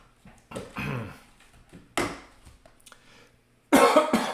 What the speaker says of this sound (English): Coughing, wow.